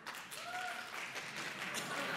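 Scattered, tepid audience clapping in a conference hall during a talk on trust, answering a show-of-hands poll; faint, distant and steady for about two seconds.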